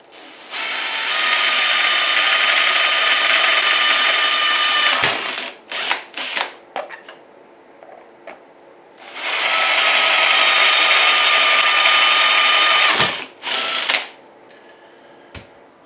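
A power drill with a 4.5 mm bit whines loudly through two long bursts of drilling holes for an RC car conversion, each several seconds, with brief trigger pulses and quiet handling noise in between.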